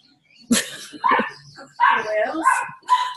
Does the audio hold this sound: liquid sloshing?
no